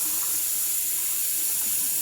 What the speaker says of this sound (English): I'm trying to make sure water's not going down the back of it.